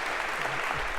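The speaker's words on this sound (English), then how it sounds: "we give you a round of applause for having done that very well" Applause from a lecture audience in a Harvard CS50 computer science class fills a brief moment, a steady dense wash of clapping at moderate level with no voices standing out.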